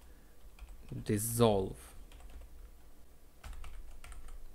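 Soft, faint keystrokes on a computer keyboard while code is written in RenPy, a continuous light patter with a brief spoken word partway through.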